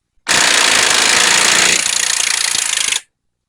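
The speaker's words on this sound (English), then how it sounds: "The big ugga-dugga wrench is not something you're supposed to use on a compensator nut" An impact wrench runs on the compensator nut of a Shovelhead clutch for about three seconds. It makes a loud, close, continuous rattling hammer that eases slightly partway through, then stops abruptly.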